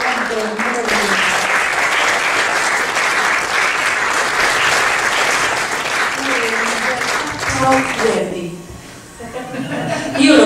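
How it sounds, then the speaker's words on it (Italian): An audience applauds at a Bookcity 2019 book presentation, a dense sustained wave of clapping with a few chuckles that fades toward the end, close and loud. "Vorrei dare un applauso con tutti quanti noi a Bruno Mancini"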